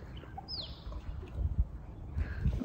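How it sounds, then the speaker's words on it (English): A bird calls briefly outdoors in Western Australia, near Perth, in spring after rain: a single faint rising-falling whistle over soft low rumble and light handling noise, with no voices. "you can just hear the birds in the background"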